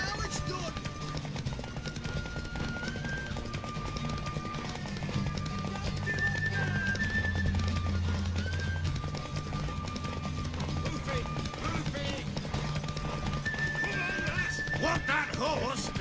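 Horse hooves clip-clopping and a horse neighing in a combat video game, heard under steady in-game noise and sustained tones, with repeated whinnies and hoofbeats across the clip.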